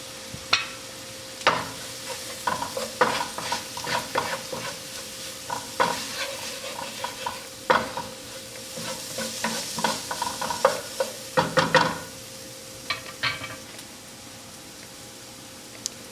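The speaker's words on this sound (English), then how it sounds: "Make sure and stir it around." Ingredients for chicken mac and cheese, cumin included, are stirred in a pan: repeated scraping strokes of a utensil over a steady sizzle, fairly close and clear, with no talking.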